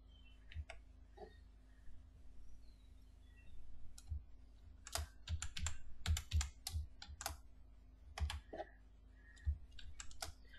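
Typing on a computer keyboard while writing in Notepad, irregular bursts of close, crisp key clicks with short pauses between them, heard alone.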